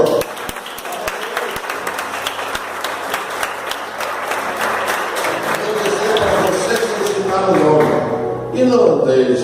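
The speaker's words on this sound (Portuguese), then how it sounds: "Aplauda ao Senhor." A church congregation claps along during a worship service, a dense, steady patter of many hands that carries on with music and voices rising beneath it toward the end.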